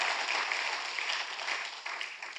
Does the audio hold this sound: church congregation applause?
yes